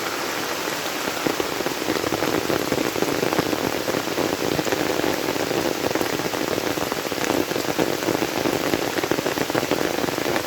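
Heavy rain pours down steadily, a dense, even hiss of countless drops pattering on surfaces nearby, continuous and loud with no voices.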